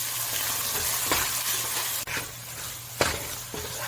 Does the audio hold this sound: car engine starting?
no